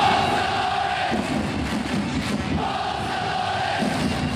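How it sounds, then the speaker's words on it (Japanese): Crowd of about 40,000 football supporters cheering and chanting inside Sapporo Dome for Consadole Sapporo, a loud, continuous roar with rising surges of shouting and no clear talk. "4万人の大声援、"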